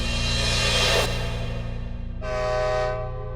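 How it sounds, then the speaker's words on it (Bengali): A train arriving at a station at dawn rumbles steadily nearby as a loud horn blares once, then sounds again a moment later over the low, continuous rolling noise. "ভোরে একটা ট্রেন এসে দাঁড়ায়"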